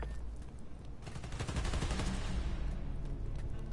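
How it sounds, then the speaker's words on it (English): Automatic gunfire in the game Marvel's Spider-Man: Miles Morales, rapid bursts that swell louder and denser in the second half, a steady rattling barrage with no talk over it. "They're shooting transformers?"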